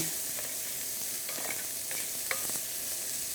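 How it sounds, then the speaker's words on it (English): Onion and garlic frying in oil in a pan while being stirred: a steady close sizzle with scraping spoon strokes over it, and no talking. "So we want to add the onion and the garlic together. Get that broken up a little bit."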